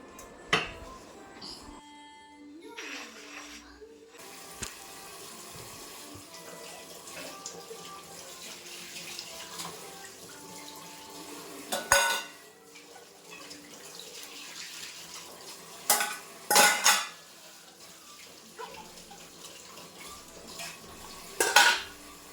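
After dishes are washed, a stove and kitchen slab get scrubbed under running tap water, with the faucet flowing steadily at close range and sharp clinks of pots and utensils.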